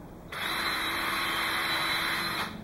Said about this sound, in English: You want to drill a small pilot hole.